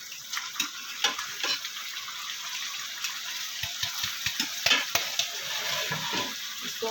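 Spinach and meat for palak gosht being stirred in a cooking pot, a series of scraping, clicking spoon strokes over a low bubbling sizzle.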